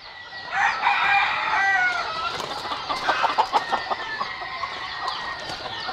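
Fighting roosters crow loudly nearby on a breeding farm, one long crow followed by overlapping crows and clucking from other birds.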